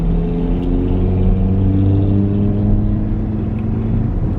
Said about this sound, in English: That car is so loud.